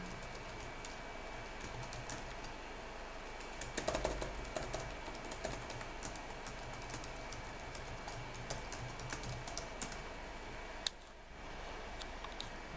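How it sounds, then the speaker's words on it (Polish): Quiet, rapid clicking of keys as a password is typed on a computer keyboard, an irregular run of soft taps throughout with a brief pause near the end. "Wpisuję hasło."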